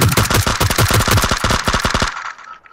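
Rapid automatic gunfire in PUBG, aimed at a gas can: a fast, loud, evenly spaced burst of shots lasting about two seconds before cutting off abruptly.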